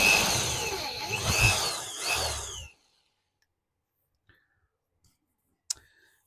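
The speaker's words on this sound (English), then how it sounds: "this is a 4mm drill bit. Apologies for the noise." A power drill with a 4mm bit bores a hole, whining loudly and steadily for a few seconds with pitch sweeps as it cuts, then stops abruptly, leaving near silence broken by a few faint clicks and a sharp tap.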